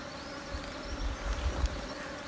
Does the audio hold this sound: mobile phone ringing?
no